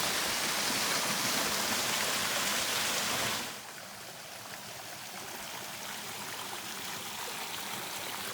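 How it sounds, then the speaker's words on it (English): A waterfall in a creek at Clark Creek Natural Area roars as a steady, dense rush of water. It is loud at first, then drops to a softer, continuous flow partway through. "And the last waterfall, and really the best one."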